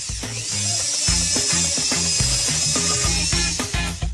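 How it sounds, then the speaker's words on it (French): A power drill whirs in stuttering bursts against a bottle cap, its motor pulsing in a rapid, uneven rhythm with clattering mechanical chatter, close and loud throughout. "Et si on l'essayait avec la perceuse?"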